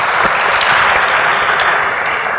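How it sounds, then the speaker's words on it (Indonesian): Loud, dense applause from a crowd, steady clapping throughout with no pauses. "Tepuk tangan buat Carol."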